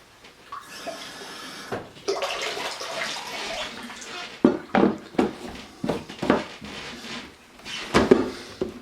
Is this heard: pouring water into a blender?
yes